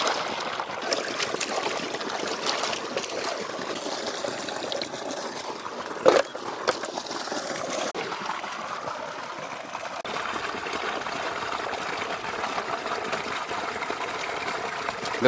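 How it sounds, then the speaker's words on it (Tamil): Fish being washed in a basin of water in an outdoor village kitchen, with a steady, close trickling and splashing that continues throughout and a brief louder splash near the middle. "மீன் நல்லா ஒரு தடவைக்கு நல்லா 3 தடவை நல்லா கழுவி எடுத்துக்கலாங்க"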